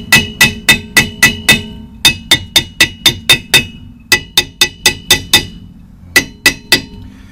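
A hammer strikes a rusty, stuck brake drum in quick bursts of sharp metallic clanks, roughly six evenly paced blows per group with short pauses between, ending with a shorter run of three.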